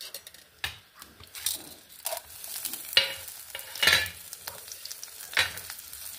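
Mustard seeds, chana dal and urad dal hit hot coconut oil for a curd upma tempering, giving a soft sizzle broken by irregular pops and the scrape and tap of stirring.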